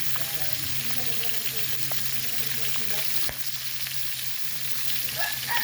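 Fish frying over an improvised fire in a metal pan, a steady hiss with small crackles throughout, close up and continuous, with no voices.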